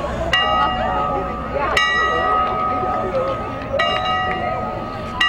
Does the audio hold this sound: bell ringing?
yes